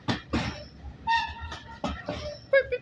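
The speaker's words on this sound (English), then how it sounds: "train. It's going by, guys." Aboard the steam engine Titan running from Corfe Castle to Swanage, carriage clatter and rail noise sound close by, with tonal squeals or whistle-like notes breaking through in short bursts.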